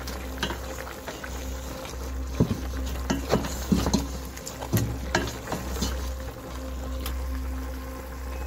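Beef tripe simmering and bubbling in a pot as it is stirred, with a steady low boil underneath and a series of soft, irregular scraping and clacking stir strokes, fairly close, with no talking.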